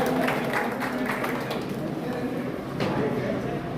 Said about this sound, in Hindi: एक बार जोरदार ताली बजाकर स्वागत करें।